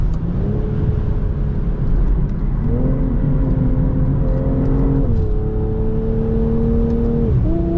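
A BMW M340 accelerates onto a highway, its engine note climbing steadily through the gears with brief drops at each shift, loud and close over road rumble.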